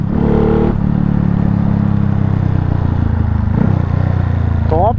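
A Honda Pop 110 motorcycle fitted with a 170cc engine runs along a highway with a loud, steady, buzzing engine drone close by that holds for several seconds, plus a brief shift in pitch near the end.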